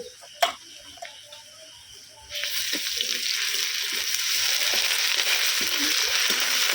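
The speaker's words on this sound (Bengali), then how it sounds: "তেলের সঙ্গে খুব ভালো করে ভেজে নেবো যাতে না কাঁচা গন্ধ থাকে" Ginger-garlic paste is dropped into hot oil with golden-fried onions, setting off a sudden, steady sizzle that grows slightly louder and keeps going after a quiet start.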